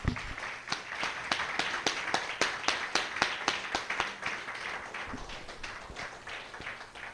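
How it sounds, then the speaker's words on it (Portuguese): A church congregation claps together in a fairly quick, even rhythm, each sharp clap distinct, heard at moderate distance and kept up for about seven seconds. "dê uma salva de palmas bem bonita para ele"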